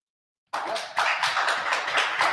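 A single person claps their hands steadily after a short silence, sharp close claps in an even rhythm with no talking.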